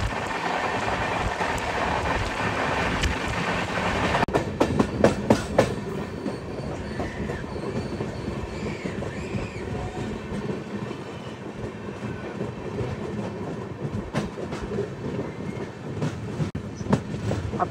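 Shantiniketan Express rumbling steadily along the rails toward a junction, with continuous wheel noise and rhythmic clacks and clicks over rail joints, loud and close throughout.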